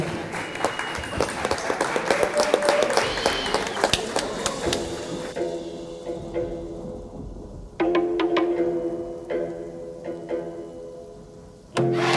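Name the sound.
audience applause at a boxing event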